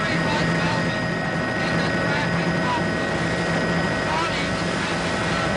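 Steady broadband rotor and engine drone from a traffic report helicopter fills the whole stretch, loud and continuous with a faint whine on top, as if heard from inside the cabin.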